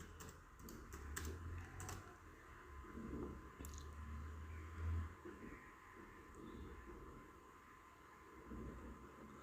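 Computer keyboard typing, quiet scattered keystrokes in short clusters with a low background hum, no speech.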